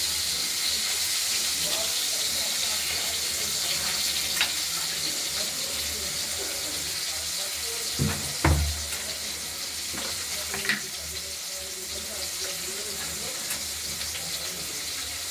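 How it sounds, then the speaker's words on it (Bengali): Potatoes frying in tempered oil in a pan, a steady loud hiss and crackle throughout, with a few brief scraping stirs partway through and no talking. "প্রথমে আমরা আলুগুলোকে ভেজে নেব ফোড়নের তেলের সঙ্গে।"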